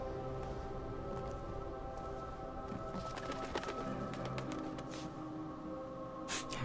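Pigeons coo softly in the Thief video game, low murmuring calls over a faint ambient background with some scattered clicks, no speech.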